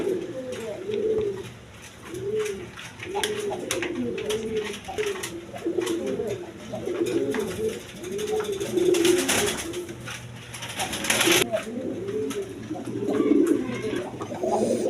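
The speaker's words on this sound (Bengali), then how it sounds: "এখানে আরেক পেয়ার রাজগোল্লা কবুতর আছে দেখেন" Rajgolla pigeons coo close by in repeated soft rolling phrases, one after another in a steady rhythm, with scattered rustles and clicks around them and no clear speech.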